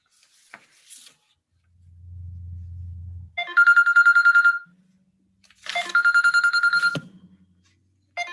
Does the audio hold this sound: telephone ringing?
yes